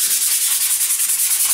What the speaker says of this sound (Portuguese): você pode vir com a lixa e dar uma desgastada.